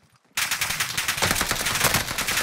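Rapid automatic gunfire in a battle royale video game on the Caldera map, a dense, loud stream of shots starting abruptly after a short silence and continuing without pause.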